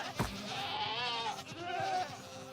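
A Minecraft goat bleats in a wavering, nasal call, repeated twice in quick succession, close and clear over a quiet background.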